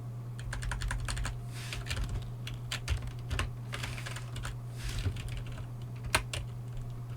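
Keyboard typing from the video game Dead Letter Dept. patters in irregular bursts of close, crisp keystrokes over a low steady hum, with occasional louder clacks and brief gaps.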